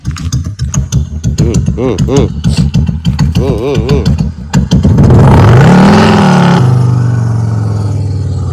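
A revving electric bike with a fire-spitting silencer gives sharp, repeated throttle blips and a loud, sustained roar up close, then settles to a lower hum.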